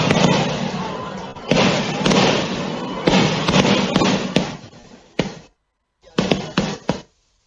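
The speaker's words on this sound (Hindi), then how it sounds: "अब ये जो आतिशबाजी है इसका मिलकर हम सब आनंद लेंगे" Fireworks at a Madhya Pradesh foundation day celebration in Bhopal on Dev Prabodhini Ekadashi, a loud continuous barrage of crackling bursts and bangs that fades, pauses briefly, then resumes with a few more pops.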